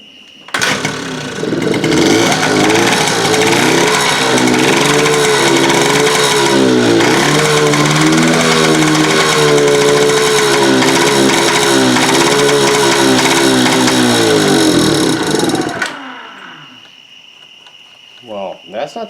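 Honda Express moped two-stroke engine running steadily at close range during an oil injection test, a loud continuous buzzing drone that holds for about fifteen seconds and then cuts off, followed by faint clicks.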